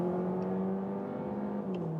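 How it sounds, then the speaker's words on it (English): A VW Passat B9 eHybrid plug-in hybrid accelerating hard in sport mode with both drivetrains engaged, giving a steady engine drone and whir inside the cabin that holds a level pitch, loud and continuous throughout. "then you also have it more audible from the whole engine. Acceleration with both drivetrains at the same time."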